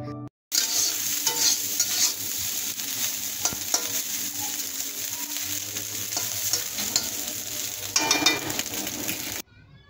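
Small fish frying in a pan, a close, steady sizzle with bursts of spattering and occasional clinks of a utensil, no talk.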